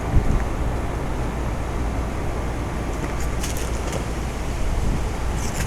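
A 2009 Rheem Classic Series 5-ton heat pump, rated 13 SEER and 9 HSPF, runs in heat mode outdoors with a steady, loud, broadband whoosh and hum, marked by a few faint ticks.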